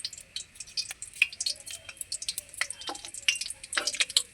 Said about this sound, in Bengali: ফোড়নে দিয়ে দিচ্ছি একটা তেজপাতা হাফ চামচ কালো জিরা